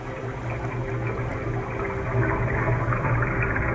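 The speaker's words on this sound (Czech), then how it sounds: "Slyším vodu." Running water in a radio play, a steady rushing flow with a dense continuous texture and a low hum beneath, close and fairly loud with no voices over it.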